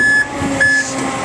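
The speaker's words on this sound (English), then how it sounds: "Outrigger on off, when you turn this switch on, you'll get the high idle to come up. You'll also hear an alarm." An outrigger alarm on an aerial fire truck sounds two sustained, high electronic beeps separated by a short gap, over the low hum of the idling truck.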